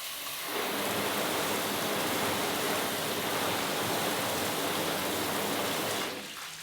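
Water spraying from a thumb control garden hose nozzle in a soaking pattern, a steady loud rushing hiss like heavy rain that starts abruptly and cuts off near the end.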